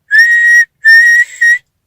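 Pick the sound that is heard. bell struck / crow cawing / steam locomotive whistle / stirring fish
steam locomotive whistle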